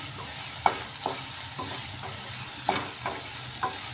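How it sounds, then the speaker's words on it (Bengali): Salted, turmeric-coated soya chunks fry in hot oil in a pan with a steady sizzle, broken by several sharp stirring scrapes spaced about half a second to a second apart; close and moderately loud, no voices. "সয়াবিনটাকে একটু ভেজে নিচ্ছি।"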